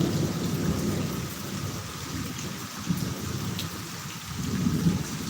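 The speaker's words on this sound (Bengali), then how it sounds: "বৃষ্টির ভিতর লাইভে আসলাম" Steady rainfall with low rolling thunder, heard outdoors during a live stream; a constant close hiss of rain over deep rumbles that swell near the start and end.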